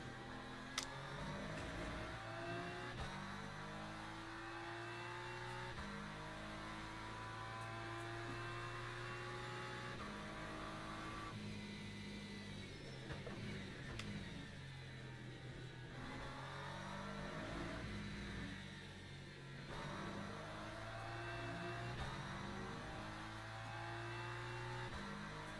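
A race car engine in Le Mans Ultimate revs and shifts through gears continuously, rising and falling in pitch, with downshifts and steady engine drone heard up close and no talk.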